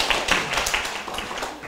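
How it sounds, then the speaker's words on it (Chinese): A short burst of audience clapping welcomes a speaker to a lecture hall, close and uneven, a few scattered hands rather than a full ovation. "再次用热烈的掌声欢迎"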